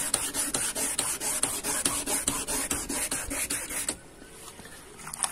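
Sandpaper rubbing back and forth over a yellowed, cloudy car headlight, a steady rhythmic rasp of repeated strokes that stops near the end, leaving a quieter stretch.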